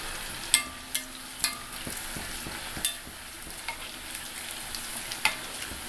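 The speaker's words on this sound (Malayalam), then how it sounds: "നമുക്ക് തീ ഒരല്പം ഒന്ന് കുറച്ച് വെച്ചിട്ട് ബട്ടൂര ഇട്ട് കൊടുക്കാം." Bhatura deep-frying in hot oil over a lowered flame gives a soft, steady sizzle, broken by occasional light clinks and scrapes as oil is spooned over it, with no voices.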